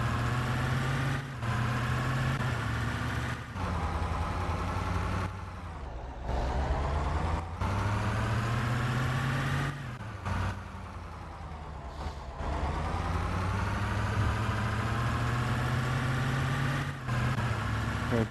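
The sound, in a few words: truck engine in a truck simulator video game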